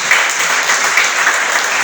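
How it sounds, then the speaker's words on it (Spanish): A church congregation claps loudly and steadily at an Easter and Holy Communion service, a dense, continuous wash of applause filling the short stretch. "Denle fuerte ese aplauso al Señor."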